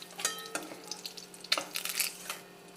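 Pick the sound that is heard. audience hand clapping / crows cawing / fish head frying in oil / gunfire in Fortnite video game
fish head frying in oil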